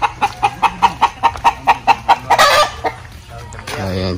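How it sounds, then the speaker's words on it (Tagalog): Rhode Island chickens in a farmyard coop give a quick series of rhythmic clucks, followed by a rooster's crow and more clucking, all loud and close by with no one speaking. "Mga Rhode Island yung alaga natin"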